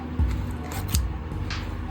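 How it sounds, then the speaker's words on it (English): Scissors snip through a crochet yarn tail, two crisp close cuts about three-quarters of a second apart followed by a faint rustle, with no talk. "I'm going to cut the rest of my tail and use the end of my scissors to hide that tail in."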